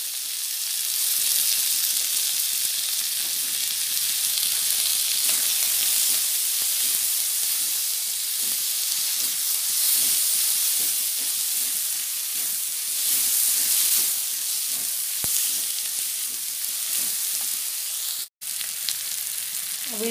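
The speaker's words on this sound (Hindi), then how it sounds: "अब दे रही हूँ बारीक कटा हुआ टमाटर," Finely chopped tomato sizzles in hot oil for cabbage masala pakoda, a loud, steady frying hiss that runs unbroken for about twenty seconds with no talking.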